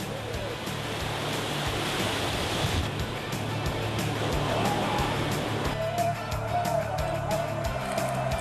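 Ocean surf breaking at a Bali surfing competition, a steady loud wash of rolling waves and foam that shifts tone midway, with faint indistinct sounds underneath.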